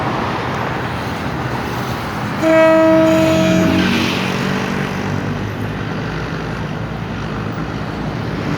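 A train departing Talat Phlu station rumbles past a level crossing, a loud horn blast sounding for about a second amid steady rolling rail noise and background traffic.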